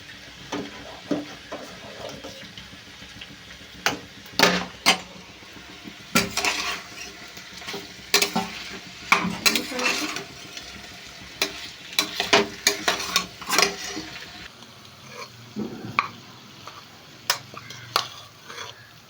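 Potatoes frying in a pan for aloo fry, with a spatula scraping and clattering against the metal in irregular bursts over a low, continuous sizzle, close and fairly loud, no voices.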